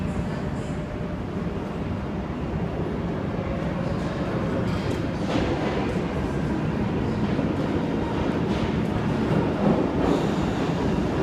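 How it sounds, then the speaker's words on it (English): Sydney Tangara train pulling into platform 2 at Bondi Junction station, a continuous rolling rumble with faint wheel and track clatter echoing under the station, steady and fairly close throughout. "got a Tangara approaching platform 2"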